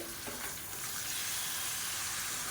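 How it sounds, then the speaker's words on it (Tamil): Chicken pieces on the bone frying in a pan with sautéed garlic and onion, a steady loud sizzle and hiss close up with faint stirring, no voices. "இதையும் சேர்த்து நல்லா வதக்கிக்கலாம்"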